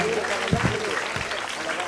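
An audience claps for the host at a school event where seats are handed out to government school students, a moderate steady patter of applause with a few voices mixed in underneath.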